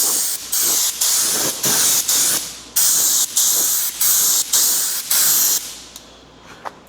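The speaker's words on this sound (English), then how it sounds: "if you're using this gun, we'll pretty much run our nozzle almost all the way out there. And you see, sprays pretty well." A spray gun applying Fluid Film undercoating to a vehicle, with the nozzle run far out: about a dozen loud, close hissing bursts, each lasting about a second, separated by short pauses and followed by a few faint clicks.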